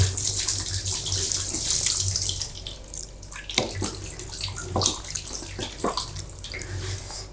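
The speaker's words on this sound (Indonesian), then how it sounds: "Mantap, cuci tangan." Hands being washed under a running tap, a steady rush of water that breaks into splashy, uneven gushes as the hands move through the stream, close and fairly loud.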